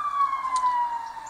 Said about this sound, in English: And that's the ambulance again.